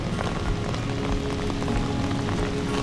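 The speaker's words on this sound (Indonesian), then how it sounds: "Deras sekali hujannya." Heavy rain pours down hard and steadily during a stormy day at a fishing casting tournament, a dense unbroken hiss of drops drumming on surfaces, with no talking.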